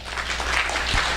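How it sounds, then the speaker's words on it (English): Audience applause at a business talk, a steady wash of many hands clapping throughout, fairly loud and dense, with no voices over it. "That should also be a round of applause."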